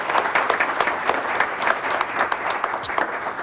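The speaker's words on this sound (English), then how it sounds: "so please give him a round of applause" An audience at a township council oath-of-office ceremony applauds the senior head of a local house of worship, a steady, moderately loud round of clapping with individual claps standing out.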